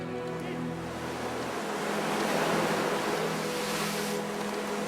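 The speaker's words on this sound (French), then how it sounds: "Une mer forte, beaucoup de vent, la manœuvre est dangereuse." A rough sea and strong wind roar continuously during a firefighters' rescue maneuver on the water, with a dense wash of crashing waves and gusting wind that swells slightly midway through.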